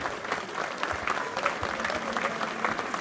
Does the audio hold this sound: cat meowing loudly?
no